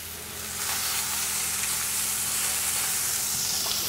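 Tomatoes hitting a hot pan beside opah fish, a steady loud sizzle that swells within the first half second and holds as a broad close hiss, with no talking.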